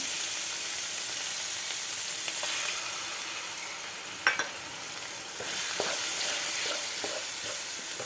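Beaten eggs fry and crackle in a hot pan for fried rice, a steady broadband sizzle with a few sharp scrapes and taps of a spatula partway through.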